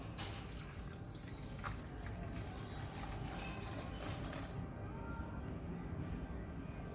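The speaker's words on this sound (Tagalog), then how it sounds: "Lagyan natin ng tubig guys." Water pours steadily into a cooking pot while making latik from coconut milk, a continuous close splashing and trickling that thins out toward the end.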